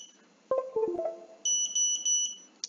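A drone flight controller's buzzer sounds on reboot after a Betaflight update: a quick run of stepped melodic chirps, then several high repeated beeps, close and clear over near silence.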